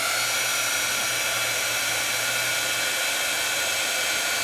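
A heat tool blows steadily close by as it heats embossing powder, a loud, even whooshing hum that holds unchanged throughout, with no voices.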